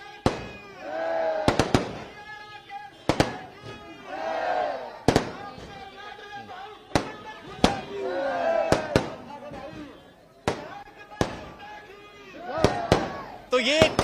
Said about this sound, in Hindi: आतिशबाजी भी आप सुन रहे हैं